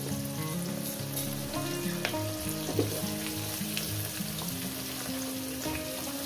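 Steady oil sizzling and crackling from bitter gourd frying, with a few soft stirring clinks, no voices.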